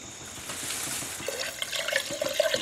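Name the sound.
liquid being poured into a spray gun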